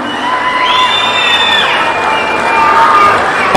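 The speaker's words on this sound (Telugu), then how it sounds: "గట్టిగా చప్పట్లు కొట్టి అభినందించండి." A large crowd cheers and shouts loudly at a public gathering about a promise to a family, a steady roar of voices with whoops and scattered children's shouts rather than distinct clapping.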